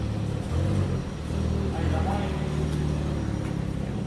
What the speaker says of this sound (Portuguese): Estamos manobrando um carro aqui.